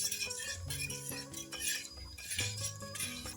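A spoon stirs spiced pani puri water in a vessel, repeated metallic clinks and scrapes against the sides in an uneven rhythm with swirling liquid, close and clear, no voices.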